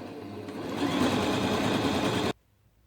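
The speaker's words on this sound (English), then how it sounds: "I will be sewing all of the back seam" A sewing machine runs steadily, stitching the back seam of a toddler's dinosaur onesie costume, a loud continuous whir lasting about two seconds before stopping abruptly, with no talk.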